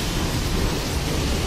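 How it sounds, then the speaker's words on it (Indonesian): Light morning drizzle at Gambir station, a busy railway station, comes through as a steady, dense hiss of rain falling on surfaces, continuous and fairly loud with no speech over it. "Cuacanya pagi ini lagi gerimis."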